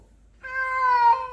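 A single clear meow from a stray cat indoors in a house, close and fairly loud, rising briefly then trailing off after a short quiet start.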